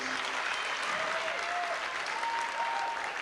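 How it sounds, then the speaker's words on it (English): Sustained applause from a large graduation audience at a high school ceremony, dense and even throughout, with faint tonal whistles or calls rising briefly over the clapping. "if you wish to applaud, I ask that you applaud your teachers, counselors, and department supervisors"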